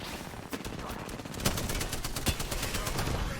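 Rapid automatic gunfire in Apex Legends, Season 13, crackles in dense bursts of sharp close shots, with a few louder cracks standing out over steady in-game noise.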